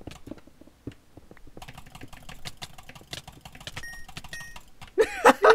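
Rapid mouse clicking during a Minecraft-style Bridge game, a fast dense patter of light clicks under quiet background noise, ending in a louder burst of noise.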